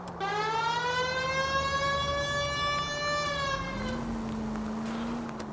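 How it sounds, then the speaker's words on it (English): A police car siren in the video game L.A. Noire wails with a steady, sustained tone before sliding to a lower pitch near the end, heard alone and fairly loud. "Use your siren to your advantage to speed things up on the road."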